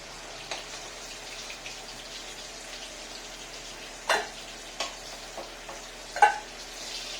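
Boal fish frying in hot oil with a little salt added, giving a quiet, steady sizzle broken by a few sharp pops and crackles, with no talking.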